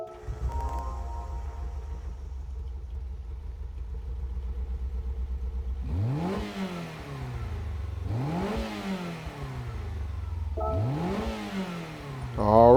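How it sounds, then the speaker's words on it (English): A 1966 Honda S800 engine cranks and catches in Gran Turismo 7, then settles into a steady idle. Three sharp revs follow, each rising quickly and falling back. "we'll listen to the startup sound"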